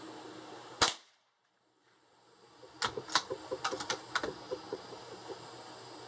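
Suppressed-sounding .22 LR rifle shots from Thunderbolt bulk ammunition through a 16.5-inch barrel: one sharp crack, a pause, then a rapid string of about a dozen sharp reports at close range, with brief ringing echoes between them.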